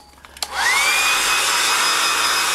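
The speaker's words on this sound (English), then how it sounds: "Get my hair dryer." A hair dryer switches on with a click and blows steadily and loudly at close range while painting a circus tent, with a broad whoosh and a motor whine that rises and then holds.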